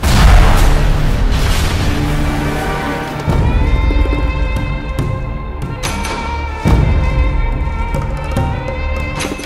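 A deep, booming explosion at a petrol spill rumbles over dense, heavy noise, with further thuds and jolts punctuating a loud, chaotic stretch.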